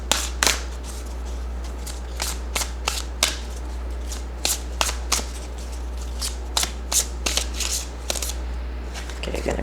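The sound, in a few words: shuffling a tarot card deck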